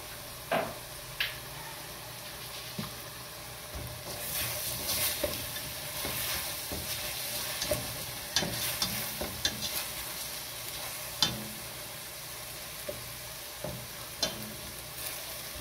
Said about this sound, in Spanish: Este sofrito huele muy rico.